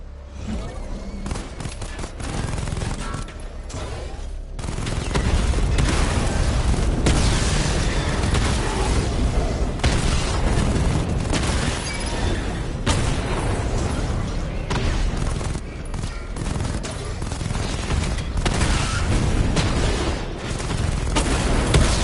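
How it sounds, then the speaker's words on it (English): Missile barrage from the Batmobile in Batman Arkham Knight, a dense sequence of booming explosions and bursts that keeps going over a heavy rumbling background. "Charge up missile barrage to level 2 and destroy 4 active targets to complete diagnostic test."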